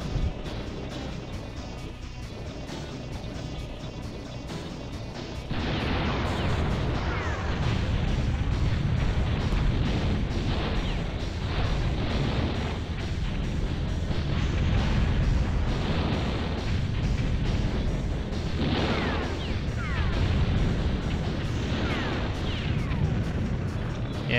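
Explosions and destructive blasts from the N64 tank combat game BattleTanx Global Assault, a dense, continuous rumble of booms and bursts that thickens after a few seconds and stays loud throughout.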